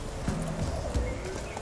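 Horse hooves clip-clopping at a gallop in The Witcher 3, a steady run of fairly close thuds with a brief whinny-like tone, and a little faint game ambience underneath.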